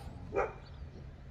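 Dogs at a home yard give a single short bark at a distance, brief and fairly faint against a low background hum.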